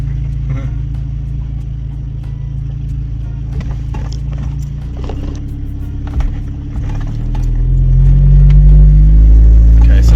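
A car with a DSG gearbox pulls away in first gear after a mechatronic sensor replacement, its engine hum building to a louder low drone, with a person talking over it from inside the cabin.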